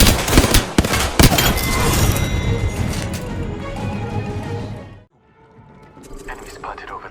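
Heavy gunfire in the video game Apex Legends, with a rapid burst of loud sharp shots and crashing impacts over a rumbling bed, then a sudden drop to quieter game sounds after about five seconds.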